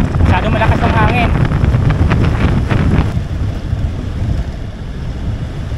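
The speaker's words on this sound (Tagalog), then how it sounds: "Lalo dito, masyado malakas ang hangin." Strong wind buffets the microphone of a DJI Action 3 action camera fitted with a foam wind cover while cycling, giving a loud, constant low roar and rumble. A few brief tonal sounds appear at the start.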